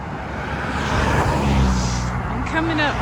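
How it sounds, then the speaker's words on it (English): Road traffic hums along a roadside walk back to the trail, a continuous broad rush of passing vehicles with a tonal whine near the end and a speaking voice partly mixed in. "a lot of traffic noise"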